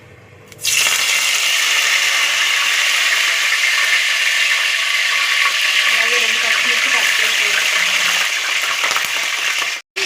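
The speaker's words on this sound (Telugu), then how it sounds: "ఆయిల్ అనేది హీట్ ఎక్కిపోయిందండి ఇందులో కరివేపాకు వేసుకుందాం ఫస్ట్" Curry leaves dropped into hot oil in a pan while cooking Andhra-style gongura prawns, a sudden loud sizzle that starts sharply and holds steady as an even crackling hiss before cutting off.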